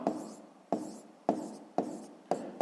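Numbers written by hand for a 5th-grade maths exercise, five rhythmic pen strokes scratching on paper about half a second apart, close and quiet with no talking.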